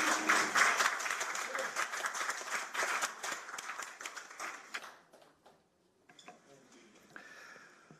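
A short burst of clapping fills an emergency committee meeting of a political party, brisk and moderate for about five seconds before fading into quiet and scattered small sounds.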